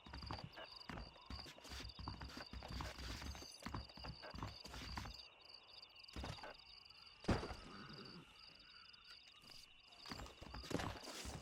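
Horse hooves clip-clop steadily in the Western video game Red Dead Redemption, a rhythmic run of hoofbeats in the first half that grows sparser and fainter later, with a few sharp knocks and a constant high tone underneath.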